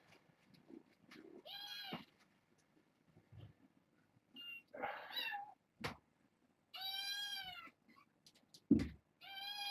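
Several kittens meow in short harmonic calls at intervals, fairly close, mixed with rustling and a few soft knocks, in a quiet room in the morning.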